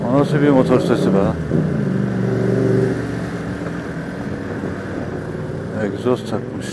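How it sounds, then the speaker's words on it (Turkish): A motorcycle with a loud aftermarket exhaust rumbles loudly and steadily close by on a seaside road, with people talking over it at the start and end. "O nasıl bir motor sesi be?"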